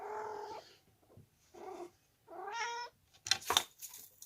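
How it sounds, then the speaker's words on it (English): A house cat gives several drawn-out, complaining meows in a row, close and clear in a quiet room, ending with a harsher, rougher burst that sounds like a growl. "Oh, you dumb cat."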